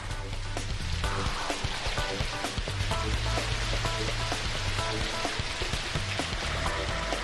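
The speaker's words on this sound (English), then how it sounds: "We want to goose up the throttle just a little bit, and we should have the perfect amount of rain." Artificial rain from a rain simulator falls as a steady, dense wash of droplets patter, loud and continuous with no break, a low mechanical hum running beneath it.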